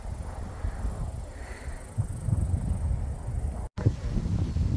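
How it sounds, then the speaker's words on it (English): Wind roars in low, buffeting gusts against the microphone on a hilltop at sunset in autumn, rough and continuous, with a brief dropout near the end. "It's so windy here on the top."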